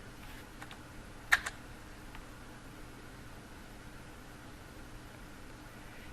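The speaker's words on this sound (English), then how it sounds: "using the backspace key on your keyboard to get rid of this word" Backspace key tapped a couple of times on a computer keyboard: two quick, light clicks close together against a faint, steady room hiss, with the rest of the stretch quiet.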